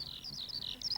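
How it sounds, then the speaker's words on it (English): Birds chirp and tweet in a quick run of high, bright calls from trees, fairly close and steady over a faint background, with no talk. "And the birdies singing their merry songs in the tall trees"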